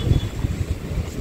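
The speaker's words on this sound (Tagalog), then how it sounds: "It's kind of windy." Steady low rumbling wind noise buffets the microphone, with gusty swells throughout and no voices.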